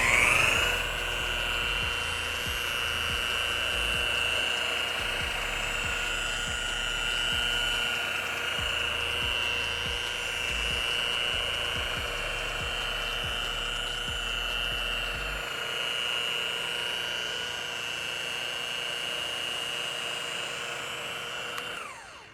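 A buffing machine with a pad polishes a boat hull, giving off a steady high-pitched whine with a low rumble underneath. It runs continuously for over twenty seconds with no talking.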